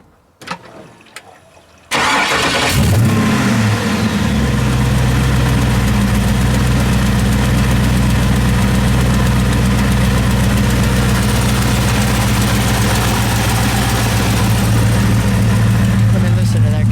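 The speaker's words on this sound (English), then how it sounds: "We'll just let it idle, and then we'll give it one good rev when I'm back there." Supercharged LS7 427 V8 in a 1934 Ford Roadster cranks over and catches after a couple of seconds, then settles into a loud, steady, lumpy idle that runs on without letting up.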